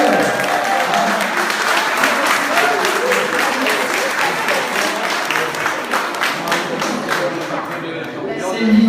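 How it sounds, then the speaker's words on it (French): Audience at a cooking contest in Bras-Panon applauding steadily for several seconds, a dense round of clapping while a presenter speaks over it through a microphone. "On l'applaudit bien fort."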